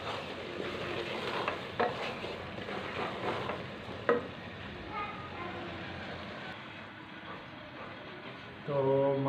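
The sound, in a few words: chana dal with tomatoes and onions being roasted and stirred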